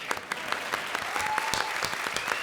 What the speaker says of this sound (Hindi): थैंक यू अरबाज के लिए ताली बजाई